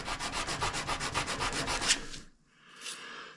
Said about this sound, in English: we're gonna do a little sanding on here just to make this edge nice and flat on a flat surface, and a little bit of sandpaper